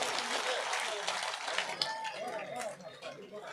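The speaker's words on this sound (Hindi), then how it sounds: "अरे तालियां दो, बजा दो भाई," Crowd applause at a village honour ceremony where a silver crown is presented, a dense steady clatter of many hands that runs throughout, with voices and loudspeaker talk mixed in.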